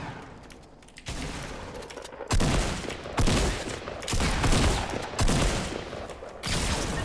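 Gunfire in the video game Fortnite Battle Royale: loud bursts of rapid shots repeat in blocks for several seconds with short gaps between them, heard with no talk.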